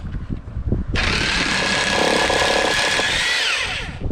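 Impact wrench spinning off a coilover nut on a Mk3 Golf, a loud, close, steady high-pitched whirring burst of about three seconds that winds down at the end, after a few faint knocks.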